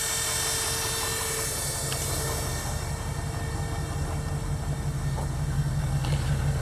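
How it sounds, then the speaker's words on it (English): A 1940 Mercury convertible with a flathead engine idles steadily, its exhaust giving a continuous low rumble close by with no talk over it. "Walk back and give you a little sound of the exhaust"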